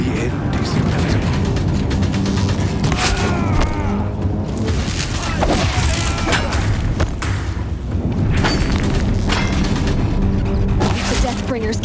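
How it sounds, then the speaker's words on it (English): Deathbringer machines firing in Horizon Zero Dawn: loud, dense thuds, booms and cracks of heavy weapon fire burst continuously over a rumbling battle din, with a voice speaking through the barrage. "If the Deathbringers keep firing, this bridge will go."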